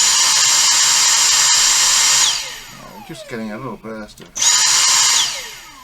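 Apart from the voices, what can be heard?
Dyson SV03 cordless vacuum motor briefly running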